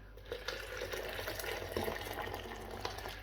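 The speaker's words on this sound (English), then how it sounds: "we just get hot water in there quick" Hot water poured into a roasting tin of beef roasting juices to make gravy, a steady close splashing gush that lasts a few seconds.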